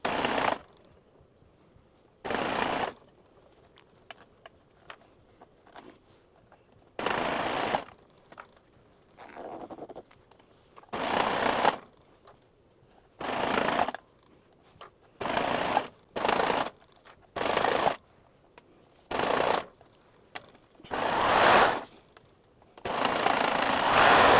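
A serger runs in short bursts of rapid whirring stitching along a zipper edge, stopping and starting repeatedly with quiet gaps between runs.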